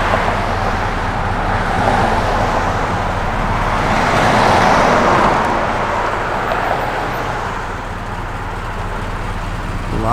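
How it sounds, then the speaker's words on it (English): Steady roadway traffic rumbles past outdoors, a continuous broadband wash of cars that swells as a vehicle passes mid-way and then eases back, with no talk. "A lot of traffic"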